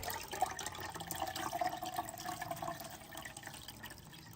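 Cloudy rice water poured through a kitchen sieve, a steady, soft trickle and patter of liquid with faint drips, close and continuous without talk.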